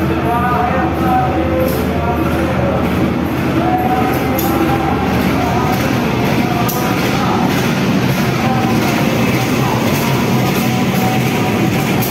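The Manahan executive passenger train pulls in at platform 5 of Yogyakarta station, a loud continuous rumble of wheels and carriages with rhythmic clacks and squeals, heard from close by on the platform.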